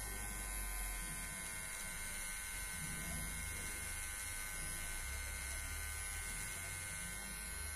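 An electric razor shaving a beard on a man with quadriplegia, using an adapted setup, gives a steady, close, continuous buzz that hums without pause for the whole stretch.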